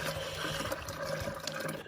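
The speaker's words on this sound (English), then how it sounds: "So we'll put the warm water in" Warm water pours into a 14-litre container in a steady, continuous splashing stream, close by and heard on its own.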